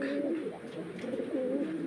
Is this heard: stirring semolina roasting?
no